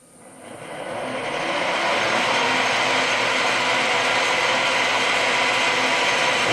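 The loudest machine in a workshop, driven by three VFDs, starts up and ramps within about two seconds to a loud, steady broadband roar and whine that holds alone, close by, with no talk.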